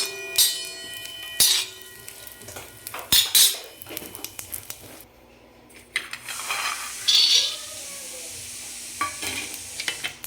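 Coconut and peanuts dry-roasting in a pan with a little oil, with repeated clattering scrapes and clinks of a stirring spoon over a soft, steady sizzle, loud bursts coming in irregular clusters.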